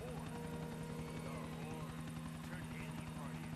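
Helicopter flying in the video game GTA 4, a steady droning rotor hum held throughout at even loudness, with voices talking over it.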